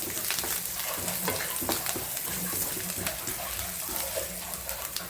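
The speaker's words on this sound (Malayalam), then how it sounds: "നമുക്കൊന്ന് മൂപ്പിച്ചെടുക്കാം" Chicken roast ingredients with shallots fry in a pan in a home kitchen, with a steady, close crackling sizzle that runs without a break and occasional stirring scrapes.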